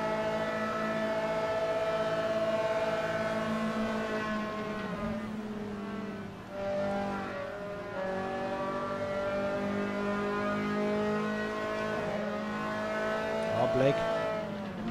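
Onboard engine of a Formula 3 race car in a sim racing championship, a sustained high whining drone with shifting pitch as the car runs in another driver's slipstream, with commentary over it.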